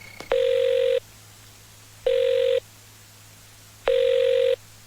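A telephone rings three times in steady, evenly spaced electronic bursts with short silences between, loud and close.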